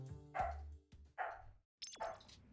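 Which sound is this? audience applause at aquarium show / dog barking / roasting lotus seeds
dog barking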